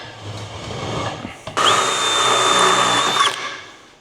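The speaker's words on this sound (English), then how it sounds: "we need to drill the holes for the other side" A handheld power drill bores holes to install a Werner LevelSafe Pro ladder leveler. Quiet handling noises come first, then one loud, close burst of whirring and grinding lasts nearly two seconds before stopping.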